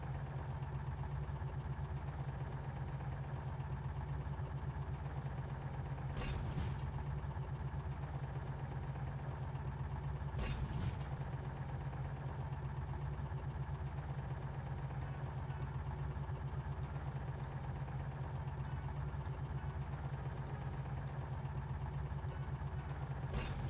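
A tractor engine in the Prostokvashino video game drones steadily at a constant loud level for the whole stretch, with a couple of brief knocks partway through and no voices.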